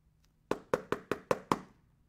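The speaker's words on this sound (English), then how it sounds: "Knock on Magic Merlin's door." Six sharp knocks rap on a door in a steady, even rhythm, close and crisp against a quiet background.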